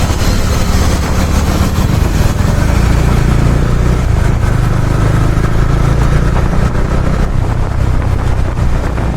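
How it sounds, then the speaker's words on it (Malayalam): A motorcycle rides along the road toward Thirumalaikovil near Tenkasi. The engine drones steadily and loudly throughout, with heavy wind buffeting on the microphone and no one talking. "ഇങ്ങനെ ബൈക്കിൽ ഇങ്ങനെ പോകുന്നത് മാത്രമേ ഉള്ളൂ കാണാനുള്ളൂ."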